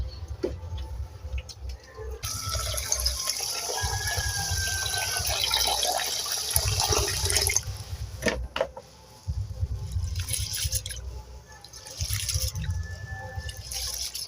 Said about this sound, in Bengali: চালটা পরিষ্কার করে জল পাল্টে পাল্টে ধুয়ে